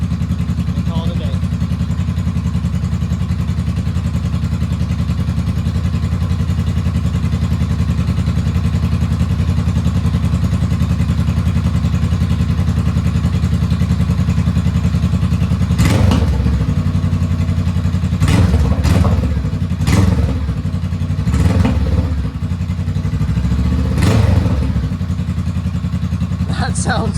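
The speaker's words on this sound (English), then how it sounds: "I'll let it warm up here, and then we'll give it a few braps" A 2022 Honda Rebel motorcycle fitted with a Shorty GP exhaust idles steadily and close by, then takes several sharp revs in the second half, with a voice talking over part of it.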